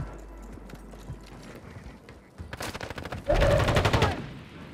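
Burst of rapid gunfire in a Call of Duty match, loud close automatic shots clustered over the second half, preceded by softer clopping footstep-like thuds.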